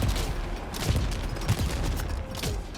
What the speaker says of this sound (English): This is just the standard grenade launcher.